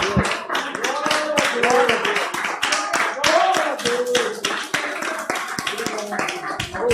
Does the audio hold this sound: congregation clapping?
yes